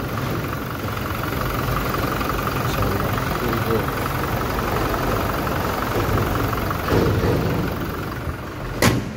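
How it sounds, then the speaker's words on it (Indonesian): A Toyota Hilux turbo engine idles with a steady low rumble throughout, heard from close by, with a faint click or knock near the end. "Mesinnya sudah turbo ini."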